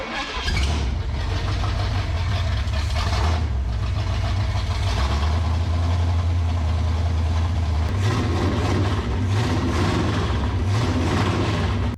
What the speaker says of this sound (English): Motor sounds healthy as can be when revving and running good.